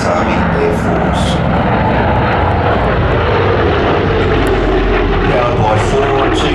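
Douglas DC-6 airliner with four 2,500 horsepower 18-cylinder twin-row Pratt & Whitney radial engines, a steady loud broadband roar throughout, continuous engine drone at an air festival with no clear breaks.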